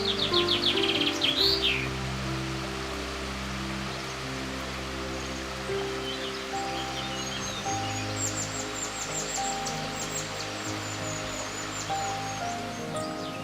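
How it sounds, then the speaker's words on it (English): Dipper fledgling and its parents calling beside the River Manifold, high thin chirps coming in bursts, loudest at the start and then scattered, over a steady rush of flowing water. "sitting by the Manifold watching the dipper feeding its newly fledged chick"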